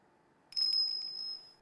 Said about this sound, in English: Oh, I don't like that bell sound.